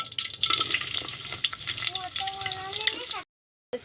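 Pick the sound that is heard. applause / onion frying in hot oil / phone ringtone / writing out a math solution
onion frying in hot oil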